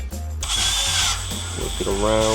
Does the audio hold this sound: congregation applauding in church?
no